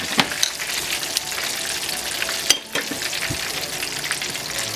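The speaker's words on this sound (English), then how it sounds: "The oil has gotten down to temperature-wise about 280, 283 really. But you know, it's bubbling just fine." Buttermilk pork chops frying in bubbling oil at around 280 degrees, a continuous close crackling sizzle with scattered pops and a brief stir or shift partway through.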